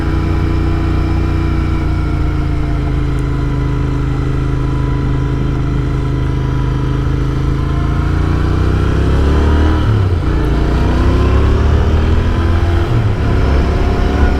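Royal Enfield GT650 motorcycle ridden on a cold 35-degree day, its parallel-twin engine droning steadily and loudly throughout, with engine pitch dipping and rising near the end as the rider shifts and changes speed.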